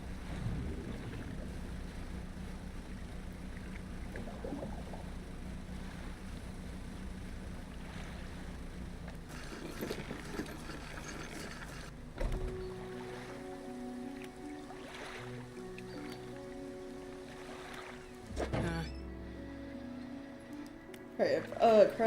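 A fishing boat in the video game Dredge moves through water, its engine a steady low drone under a wash of waves and wind. Several brief clunks and shifts in tone come and go over about twenty seconds.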